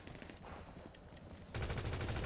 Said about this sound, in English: I hear gunshots though.